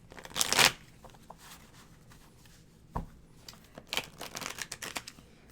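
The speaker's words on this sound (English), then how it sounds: "And we're both shuffling our cards." Tarot cards shuffled by hand during a live reading, giving a bright riffling burst at the start, then scattered soft flicks and crinkly card noises that grow busier toward the end, close and fairly quiet.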